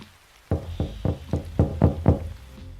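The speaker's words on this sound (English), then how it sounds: "I heard some loud knocks at the door." Seven loud, evenly spaced knocks on a door, close by, with no voices.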